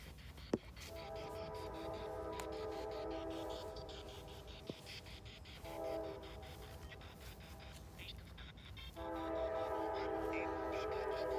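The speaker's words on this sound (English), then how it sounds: "That train is annoying." A train rumbles past a cemetery with a steady broadband roar and sustained horn-like tones that swell, fade, and return louder near the end.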